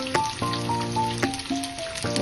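Soybean nuggets fry in a pan with a steady sizzling crackle, punctuated by several sharp clicks and a faint ringing tone in the background, close and moderately quiet, with no voices.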